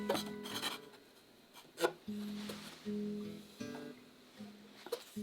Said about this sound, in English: after much fairing and sanding, we get our job done